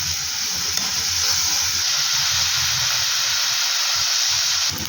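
Ginger-garlic paste and turmeric fry in the hot tempering for chitranna, giving a steady, close sizzle and hiss with faint stirring throughout.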